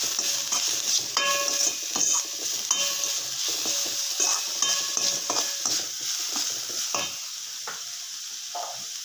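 Onions sautéed with salt in a pan are stirred steadily, a continuous sizzle under repeated scraping and clinking strokes of the spoon against the pan, close and fairly loud throughout.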